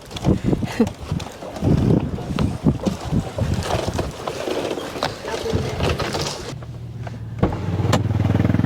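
Gusty wind buffets the microphone in loud, uneven rumbling bursts near a boat in Puerto Princesa, Palawan, with faint voices and a low engine drone joining toward the end.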